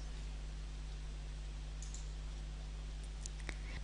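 A computer mouse clicks a toolbar button in charting software, giving a few faint, sharp clicks near the end over a quiet, steady electrical hum.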